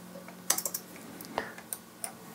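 Keyboard shortcuts and mouse clicks during photo slideshow editing: a quick cluster of sharp, close clicks followed by several spaced single taps, quiet with no talk.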